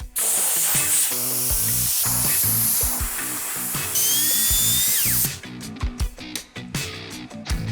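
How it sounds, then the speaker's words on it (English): An air compressor blows water off a freshly cleaned bicycle in loud, close hissing bursts of varying length, with clattering and knocking between blasts toward the end. "I've got the compressor, so let's get this thing dry"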